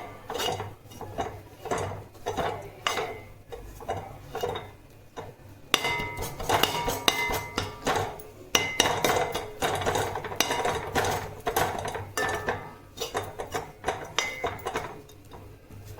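Egg chapati being chopped and mixed on a pan in kothu parotta style, with a steady run of close metallic clanks and taps from utensils striking the pan, quickening into a busier clatter partway through.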